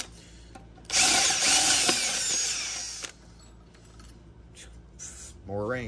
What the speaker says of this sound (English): Let's go ahead and drill it out for the next one.